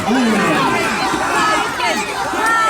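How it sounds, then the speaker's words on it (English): A crowd cheers and shouts loudly for champions in a staged Viking and Saxon battle at a heritage event, a dense, continuous roar of voices with individual yells standing out. "Ladies and gents, please cheer on your champion."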